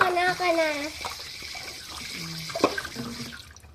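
Tap water runs steadily into a sink while dishes are rinsed, with light clinks of plates, under the voices of people talking nearby.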